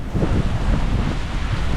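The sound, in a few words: strong wind blowing during monsoon trek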